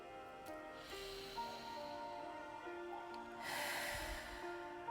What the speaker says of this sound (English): take a few really nice deep inhale and exhales